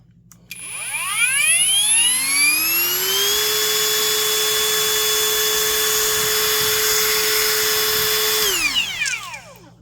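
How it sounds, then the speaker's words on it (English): A Kimo 20V brushless 4-1/2 inch angle grinder motor spins up with a rising whine, holds a steady loud high-pitched scream for several seconds, then winds down as it stops. "Suppose we'll just see how the motor itself runs."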